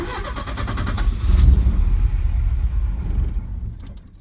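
A Porsche 944 engine, already warmed up, cranks and catches with a loud rumble, runs roughly for a few seconds and then dies away to near silence, heard close and alone.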